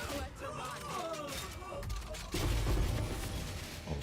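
Grenade blasts and gunfire from the Path of Exile 2 action game, played with a crossbow character, form a dense, continuous din of booms and crackling shots that grows heavier partway through, with no voice over it.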